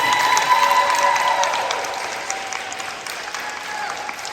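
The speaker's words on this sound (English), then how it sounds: "Give them a big round of applause as well." A banquet crowd claps steadily for volunteer coaches at a school sports awards event, with dense applause that tapers slightly over several seconds.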